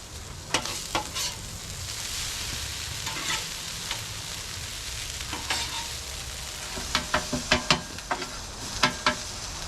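Hash browns frying in a pan for a breakfast burrito, a steady sizzle under repeated sharp scraping and flipping clatters, several quick spatula hits bunched toward the end.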